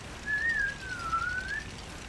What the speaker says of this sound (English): Or I could whistle while you work.